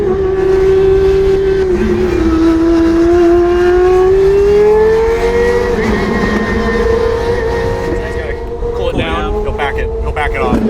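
A McLaren track car drives past on a lap, its engine note rising and holding as a strong, steady drone that fades slightly near the end.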